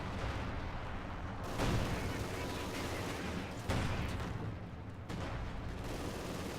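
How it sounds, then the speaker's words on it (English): MG42 and Maxim machine guns fire in a Company of Heroes 2 winter battle on the Moscow outskirts, rapid bursts and booms layering into a dense, continuous din with some distant blasts breaking through. "with MG42s and Maxim machine guns shooting at it"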